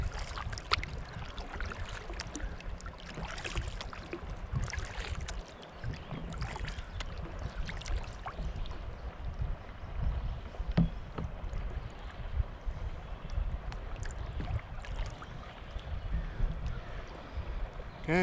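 Kayak paddling on the Missouri River, with continuous splashing and water rush from the paddle strokes under steady wind buffeting on the microphone, without a clear pause throughout.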